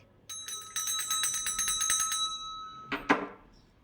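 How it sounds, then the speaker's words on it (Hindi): A small metal temple bell at a home shrine is rung rapidly for a Laddu Gopal idol, giving a bright continuous jangle for about two seconds before it stops with a couple of sharp knocks. "सबसे पहले मैं अपने लड्डू गोपाल जी को उठाती हूँ मंदिर की घंटी से।"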